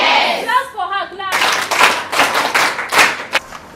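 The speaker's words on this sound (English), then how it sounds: "Clap for her, clap." Classroom students break into a burst of dense group clapping for a classmate, following a brief spoken moment at the start and continuing steadily to the end.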